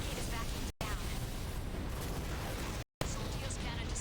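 A dense, roaring blast from a Soldios cannon being destroyed in the Armored Core 4 Answer video game, a continuous broadband rumble of explosions cut by two brief dropouts.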